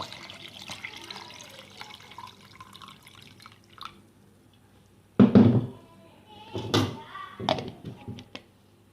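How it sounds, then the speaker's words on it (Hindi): Chilled water poured into plum juice in a home kitchen: a few short splashing pours and drips near the end, loud and close after a quieter stretch of faint kitchen noise. "ठंडा करके पानी रखा हुआ था वो डाल लूँगी।"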